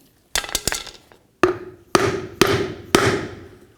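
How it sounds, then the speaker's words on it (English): Sharp hammer blows strike a flat piece of wood laid over a rear parking brake shoe on a 1999-2007 Ford Super Duty F-250 hub assembly, two quick pairs then four evenly spaced ringing strikes, close and loud. "I'm going to use a flat piece of wood over it,"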